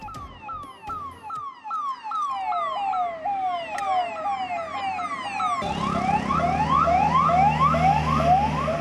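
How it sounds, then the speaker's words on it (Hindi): An ambulance siren wails in a rising and falling pattern, loud and close, on a city street in Delhi during the coronavirus epidemic, with a second siren joining partway through. "कोरोना की महामारी में एम्बुलेंस की आवाज हर शहर कस्बे में सुनाई पड़ रही है।"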